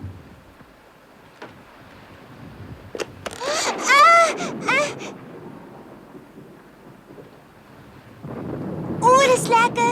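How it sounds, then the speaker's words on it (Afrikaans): A thunderstorm with thunder and rain in a cartoon episode: a low rumbling roar swells and fades under the scene, mixed with whooshing wind-like noise while a voice speaks over parts of it. "'n donderstorm, 'n regte storm."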